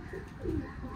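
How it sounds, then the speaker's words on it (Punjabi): Pigeons cooing close by in a loft-side setting, a soft low burble swelling in the middle of a brief moment, with no talk over it. "ਇਹ ਕਬੂਤਰ ਸਾਹਮਣੇ ਆ ਰਿਹਾ"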